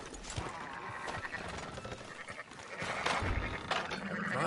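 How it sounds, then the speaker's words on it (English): Sheep bleating in the Red Dead Redemption 2 video game, wavering cries over a steady bed of ambient outdoor game sound, moderately close and fairly quiet. "Fine sheep."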